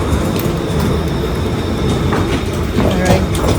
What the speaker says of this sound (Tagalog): Transfer kami ng train. Papunta ng Changi Airport.